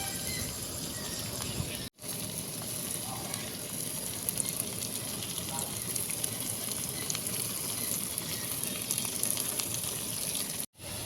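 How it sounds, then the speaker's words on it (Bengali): Vegetables fry on high flame in a wok for restaurant-style egg chowmein, a dense continuous sizzle with occasional stirring scrapes, close and loud, briefly cut twice. "সবজিগুলো যাতে ভালোভাবে সেদ্ধ হয়ে যায় এর জন্য আমি একটু লবণ দিয়ে হাই ফ্লেমে সবজি এবং চাউমিন সবটাই হাই ফ্লেমে করব"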